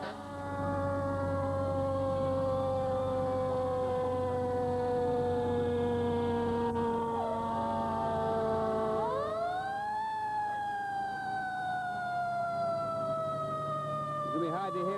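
Rowley fire department apparatus rolls through the town's 350th anniversary parade, several loud wailing sirens overlapping, with a fresh siren sweeping up sharply partway through and holding steady over a faint background murmur.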